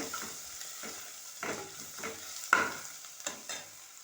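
Turmeric being stirred into a sizzling curry in a pan, with a spoon scraping in several distinct strokes over a steady fry hiss; no talking.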